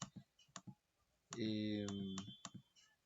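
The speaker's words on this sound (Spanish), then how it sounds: "Al darle clic" A computer mouse is clicked during a desktop software walkthrough. The clicks are brief and sparse, sounding close and quiet against a low background, and a tonal sound rises in the middle of the stretch.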